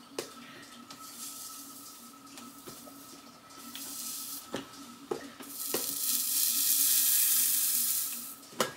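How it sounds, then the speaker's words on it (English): A hissing sizzle from a hot comb pressed on hair rises and fades close by, with occasional clicks and taps, swelling loudest toward the end. "Y'all hear that sizzle?"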